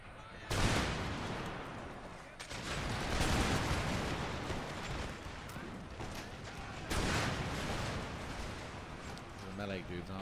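Cannon and musket volleys in the strategy game Empire: Total War, Prussian forces on a battlefield, come as loud booming bursts near the start and again later, with steady crackling gunfire rolling between them.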